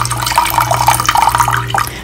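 Water being poured into a stainless steel pot while preparing diluted soap paste, a steady close splashing and trickle running for about two seconds with no talk over it.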